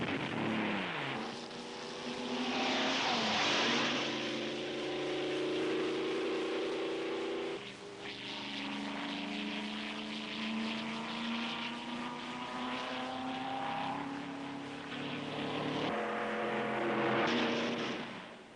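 A 1937 Auto Union race car driven by Rosemeyer roars away at the non-Formula Avus race in Berlin, a loud sustained engine howl rising and shifting in pitch as it accelerates.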